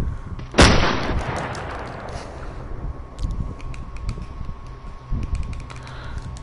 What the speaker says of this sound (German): Und schieße die letzten beiden auch noch weg.